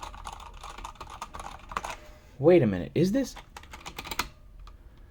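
Rapid clattering keystrokes come from a cheap FELiCON mechanical-style keyboard that is not truly mechanical, close and continuous, while someone briefly speaks partway through.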